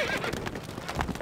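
Hooves of a galloping horse in the medieval strategy game Stronghold Crusader, quick loud clip-clop beats with a whinny mixed in, heard close and alone.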